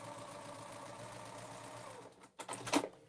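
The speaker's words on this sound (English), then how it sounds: "And I am sewing with a little bit of a scant, just a tiny." Sewing machine stitching a quilt block seam with a scant quarter-inch allowance, a steady close mechanical whir for about two seconds, then a pause and a brief louder burst of clatter.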